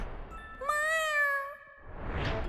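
A cartoon kitten in a Tayo the Little Bus episode gives one clear, drawn-out meow, loud and close, followed by a soft breathy rustle.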